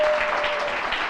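Seminar audience at a business presentation clapping briefly, a short dense burst of many hands, fairly loud and close.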